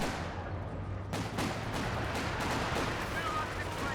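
Machine gun and rifle fire in a Company of Heroes 2 battle, with LMG Grenadiers flanking a machine gun position, comes as dense overlapping bursts under a constant battlefield rumble, with a commentator talking over it.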